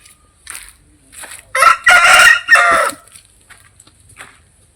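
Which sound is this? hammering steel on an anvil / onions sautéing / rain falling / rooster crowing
rooster crowing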